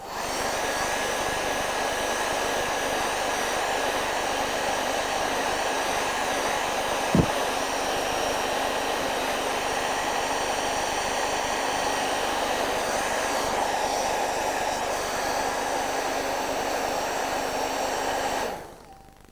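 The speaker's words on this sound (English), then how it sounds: "Now, quick dry again, because we're drying as we go." A hair dryer blows steadily on freshly applied acrylic paint to quick-dry it, a loud continuous whirring roar lasting nearly the whole stretch with one brief click partway, then cutting off abruptly at the end.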